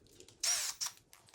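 A power drill with a 3/16 bit bores pilot holes for lag bolts into a garage ceiling over the floor joists, two short whirring bursts, the first longer, with faint clatter between them.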